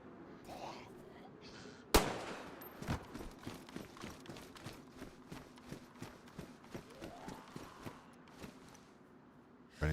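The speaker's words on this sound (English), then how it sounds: "Bit of shooting practice." Shooting practice in DayZ: one loud close shot followed by a long, regular run of fainter sharp shots, evenly spaced, over a low hum, with another loud shot at the very end.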